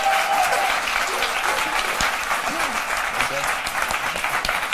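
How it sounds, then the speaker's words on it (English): An audience at a conference on happiness gives a round of applause for a guest speaker, sustained, even clapping that holds throughout, with a few faint voices mixed in. "So round of applause to Nipun"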